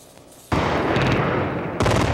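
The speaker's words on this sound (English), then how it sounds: "Iraq's air defenses started firing into the sky" Sustained bursts of Iraqi anti-aircraft fire over Baghdad at night, a dense rapid crackle of guns that starts abruptly, holds loud and steady, then surges again near the end, with no speech.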